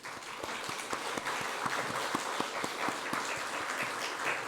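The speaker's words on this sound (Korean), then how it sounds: "우리 박수로 환영해 드리겠습니다" A Korean church congregation at a Sunday morning service in Chile applauds to welcome visiting guests, with sustained, even clapping and distinct individual claps throughout.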